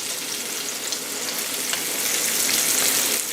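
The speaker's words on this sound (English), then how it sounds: "Get a little oil in and just sauteing them." Smelts sautéing in a little oil in a pan, a close, steady bright sizzle and crackle that builds slightly louder toward the end, with no voices.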